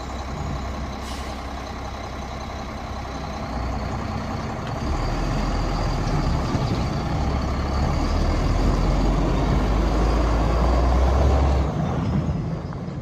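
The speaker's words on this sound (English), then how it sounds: "Truck runs strong, guys." A 1999 Mack RD688S truck engine fires up and settles into a loud, steady diesel run that builds slightly and holds strong, with a brief air-brake hiss and no talking.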